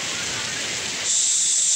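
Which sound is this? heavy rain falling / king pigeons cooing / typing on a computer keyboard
heavy rain falling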